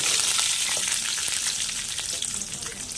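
Sliced onion and green chillies fry in hot oil in a pan, a loud steady sizzle that fills the whole moment with light stirring scrapes underneath.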